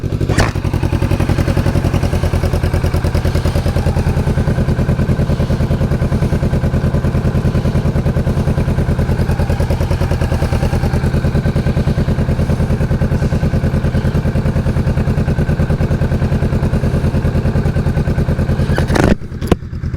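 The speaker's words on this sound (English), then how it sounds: "Here is the Vulcan S idling with the Musarri exhaust" A Kawasaki Vulcan S motorcycle fitted with a Musarri exhaust idles close by, its low, steady engine rumble holding even for the whole stretch before a brief clatter at the very end.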